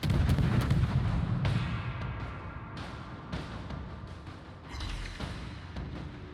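Naval guns on the battleship Texas fire in World of Warships, giving heavy booming salvos with deep rumbling tails, several loud blasts spaced across a dense battle soundscape.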